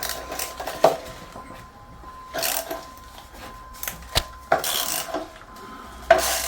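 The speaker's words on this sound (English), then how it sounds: "Now we can remove the bottom bolt. T50." A T50 ratchet loosens the bottom shock bolt on a BMW GS motorcycle, producing quick clicking ratchet bursts and metallic clanks of tools, close by, with pauses between strokes.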